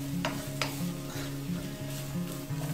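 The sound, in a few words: carrots and cabbage sautéing in oil in a pan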